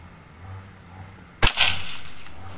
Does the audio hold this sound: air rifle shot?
yes